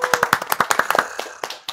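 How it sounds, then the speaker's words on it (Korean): A short burst of audience clapping at a university intellectual property evaluation show, a quick run of sharp hand claps that thins out within two seconds. "여러분 박수 한번 치고 가죠"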